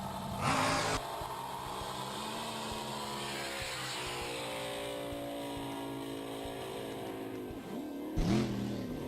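A drag race car at the SDBA Hunter Showdown in El Reno coasts across the finish line after lifting off the throttle early, a steady engine drone with a Doppler sweep, bracketed by brief loud roars near the start and end.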